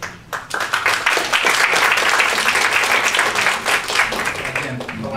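A crowd at a public hearing on a house demolition breaks into sustained, dense applause that stays loud and steady for several seconds, with scattered voices mixed in.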